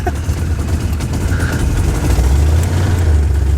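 C3 Corvette engine running while driving, a loud, close low rumble that builds slightly toward the end, with no talk over it.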